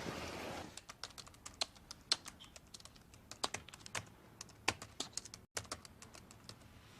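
Typists in a typing pool tap away at keys, an irregular run of crisp, fairly close clicks and clacks over a quiet room, with no talking.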